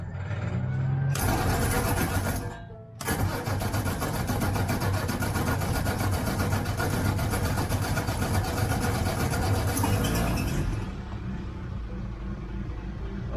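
A 1950 Crosley Hotshot engine cranks, catches and settles into a steady idle, loud and close in a garage, with a brief drop as it first fires before running continuously, then easing slightly at the end.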